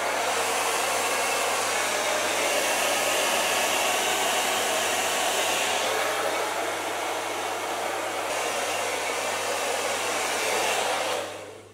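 A hair dryer blows hair dry with a loud, steady whooshing roar close by, unbroken for about eleven seconds before cutting off at the end.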